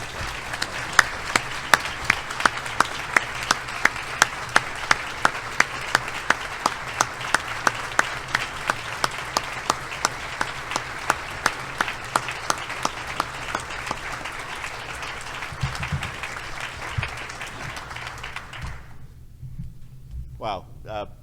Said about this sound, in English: I hope you will all join me in a warm round of applause and welcome for Congressman Jim Langevin.